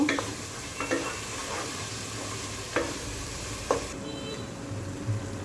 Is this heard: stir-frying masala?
yes